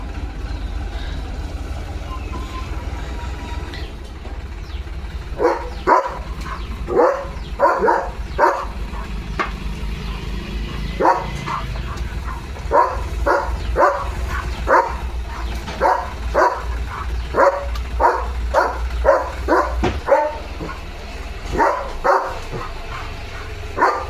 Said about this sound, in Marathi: त्या ट्रॅक्टरला भुंकतो